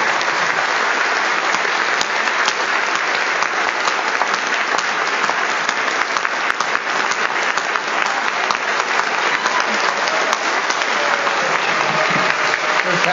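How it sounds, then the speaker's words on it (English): A seated audience at a talk on Buddhism gives a long, sustained round of applause, a thick, even wash of clapping that holds steady without letting up, loud and close. "may I please ask for a round of applause for all the people who presented"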